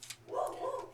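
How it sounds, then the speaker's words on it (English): A big German Shepherd mix barks once from downstairs, a muffled, distant single woof. "That's my dog downstairs."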